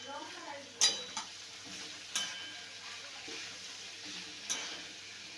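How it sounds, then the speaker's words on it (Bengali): Jackfruit and fried potato curry with grated ginger, turmeric and cumin powder is stirred in hot oil, giving a soft sizzle under scattered sharp clinks of a spoon against the pan, with no talk. "ভালো করে মিক্স করে নেব।"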